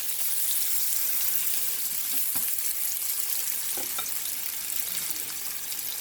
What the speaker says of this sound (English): I'm going to go ahead and saute my one zucchini squash.